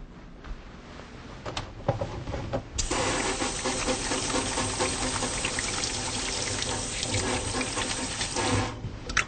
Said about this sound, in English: So I'm going to first wash my hands.